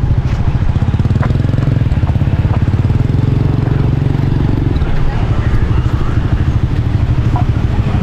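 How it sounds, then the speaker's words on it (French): Scooters stream past at a busy Ho Chi Minh City night market in District 1, a loud, continuous buzz of small engines close by with a steady rattling pulse that hardly lets up throughout. "And these scooters are everywhere."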